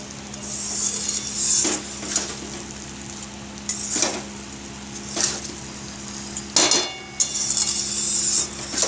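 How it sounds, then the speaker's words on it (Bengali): Flattened rice is stirred with spices in a pan over a soft frying hiss, with repeated spatula scrapes and metallic knocks against the pan at irregular intervals. "চিড়েটা দিয়ে এবার একটু নাড়াচাড়া করে নেব ভালোভাবে, মশলাটা যাতে মিশে যায়।"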